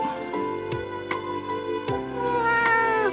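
A cat meows repeatedly in drawn-out, tonal cries, close and fairly loud, with a few short breaks between calls.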